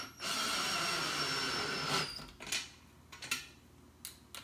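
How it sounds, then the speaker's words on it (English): A power drill fitted with a 3/8 socket adapter and half-inch socket whirs steadily while tightening bolts on a Big Blue water filter housing, then stops, followed by a few short clicks and taps. "I'm using a 3/8 a drill socket, so I can put a socket on there, half an inch."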